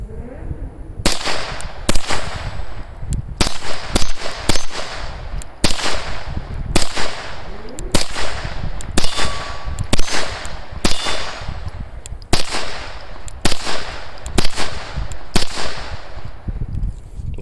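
An FN 502 Tactical pistol fires .22 Stinger rounds through a full magazine. Loud, close, sharp cracks come in a steady string of a dozen or more shots, each ringing briefly, with no talk.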